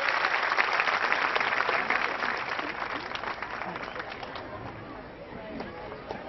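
An audience at a medal ceremony for students at a centenary festival applauds in a dense, steady wash of clapping that slowly fades, with voices mixed in underneath.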